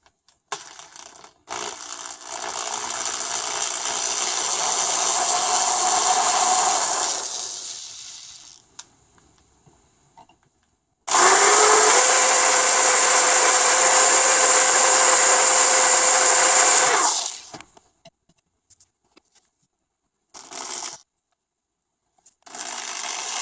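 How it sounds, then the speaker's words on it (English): A drill bores small pilot holes into a drum pedal footboard in two long bursts, one around six seconds and a louder one around six more, with brief quieter pauses and short buzzes between, close and alone. "I'm going to start by drilling a couple of small pilot holes"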